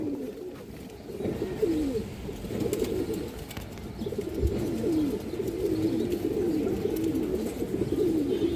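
Continuous cooing from several Bagha pigeons, low rolling calls overlapping steadily throughout, fairly close with a busy background.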